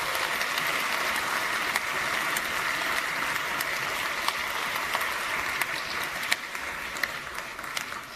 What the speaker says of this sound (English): I'd ask our audience to give them a round of applause.